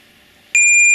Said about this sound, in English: beep. Now the timer is waiting for shots.